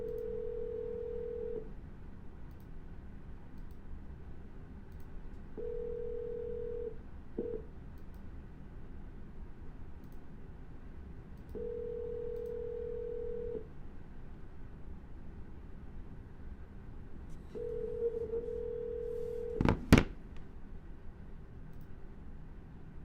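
Telephone call on a line going unanswered: four long, steady ring tones recur at even intervals over faint line hiss, then a brief burst of dialing tones near the end.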